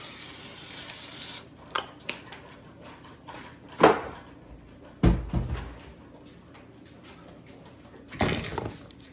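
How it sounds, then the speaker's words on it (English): Several short hissing bursts from an aerosol can of cooking spray sprayed onto the tops of carrots, spaced a second or two apart, with light kitchen clatter between them. "take just a little bit of this cooking spray to spray the tops of these carrots"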